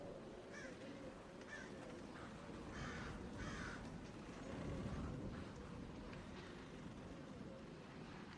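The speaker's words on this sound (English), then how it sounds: "Birds." Several bird calls ring out, harsh caws repeating at intervals over a low, constant background rumble.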